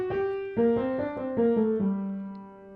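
A keyboard plays the tenor line of the twelfth fugue from Bach's Art of Fugue: about six sustained notes moving stepwise at a steady, moderate pace, each clear and solo, with no voices.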